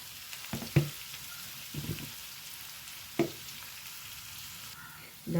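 Onions softening in a frying pan, a gentle steady sizzle broken by several sharp scraping stirs of a spoon.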